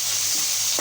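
Fish frying in a pan with turmeric, chili powder, salt and green chilies gives off a loud, continuous hissing sizzle, with no voices.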